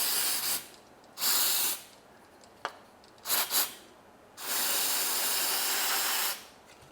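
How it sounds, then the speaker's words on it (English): Electronic cleaner sprayed onto a car's MAF airflow sensor, several close, loud hissing bursts of varying length separated by pauses, ending with one long sustained spray. "You just take your electronic cleaner."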